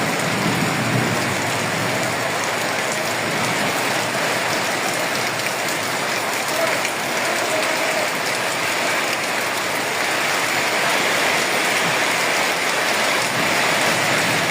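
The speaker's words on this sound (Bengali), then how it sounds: "মোটামুটি ভালোই বৃষ্টি হলো এতক্ষণ পর্যন্ত" Heavy storm rain pours steadily as a dense, loud wash of hiss that stays unbroken throughout, with no voices over it.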